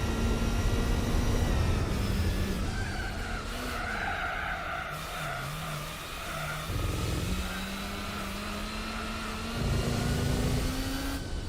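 A race car engine in Gran Turismo 4 accelerates and holds a steady mid-pitched drone, its pitch rising through long pulls and dropping briefly at gear changes, with tire squeal layered over it and no talking.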